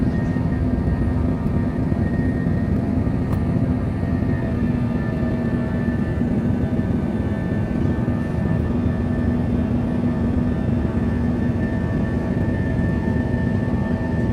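Spirit Airlines airliner in flight, a steady, loud, broadband cabin roar with a constant low engine hum that stays even and unbroken throughout.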